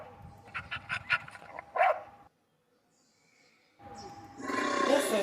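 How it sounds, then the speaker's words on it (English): A walking dog in a children's animal cartoon gives a few quick barks and yips, followed by near silence, then a louder rush of cartoon background sound. "This is a dog."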